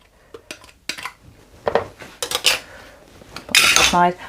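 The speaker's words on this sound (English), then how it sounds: "And also my coarsely grated paneer, all of it straight in, and just give that all a mix." A utensil scrapes and clinks against a bowl as pakora batter is mixed with grated paneer. The taps come irregularly and close up, ending in a louder rattling scrape.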